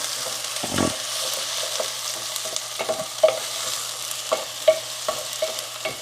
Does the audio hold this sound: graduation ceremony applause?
no